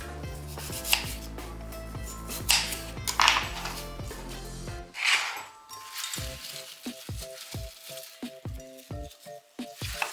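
Knife slicing apples very thinly on a cutting board for an apple cake, a steady series of close, crisp chopping taps in rapid rhythm, with a short pause midway before the cuts resume.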